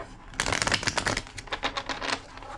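A deck of cards riffles quickly in a couple of crisp, rattling bursts, close up, with no talking.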